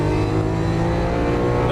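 A Lamborghini Aventador LP700-4 V12 engine pulls hard under throttle on the Las Vegas Motor Speedway, a loud, close, sustained roar with a steady harmonic drone and no speech over it.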